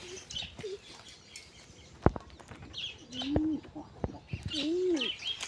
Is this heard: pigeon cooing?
yes